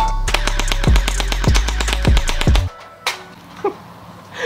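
P90 gel blaster toy gun firing at a Coke bottle, a rapid mechanical burst of rattling shots with rhythmic motor whirs, loud and close, then stopping abruptly, followed by a couple of sharp isolated clicks.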